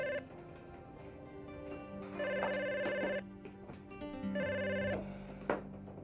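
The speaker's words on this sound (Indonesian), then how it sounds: "Angkat telepon." A telephone rings in an Indonesian TV drama scene, sounding in repeated trilling bursts at moderate volume with no one speaking.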